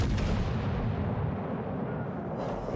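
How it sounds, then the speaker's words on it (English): An enemy destroyer blowing up in a naval combat video game, a deep, sustained rumbling roar that holds steady and loud throughout, with a brighter crackling burst near the end. "Enemy destroyer blown up."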